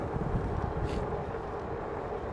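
Steady wind buffets the microphone while riding a Philodo Jumbo AWD e-bike, a low rumbling roar with gusty fluctuations throughout; no voices.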